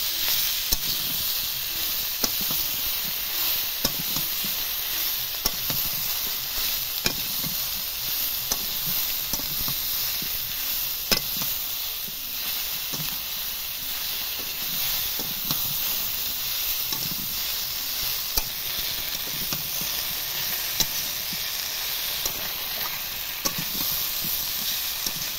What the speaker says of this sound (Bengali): ভেজে রাখা আলু একসাথে দিয়ে আবারও ভালো করে কষিয়ে নেব।